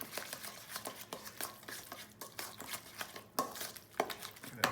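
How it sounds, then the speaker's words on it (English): Tzatziki mixture seasoned with salt and pepper being stirred in a bowl, a quiet run of rapid, rhythmic scraping and tapping strokes close by, with no talk. "Stir that around."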